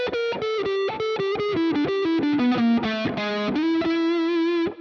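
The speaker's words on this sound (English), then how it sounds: "maybe throw in a little half-step slide, too. And you get a really interesting sounding lick." Distorted electric guitar playing a quick arpeggio lick with a half-step slide, a run of rapid picked notes that bend downward and settle on a sustained final note, loud and close with no talking.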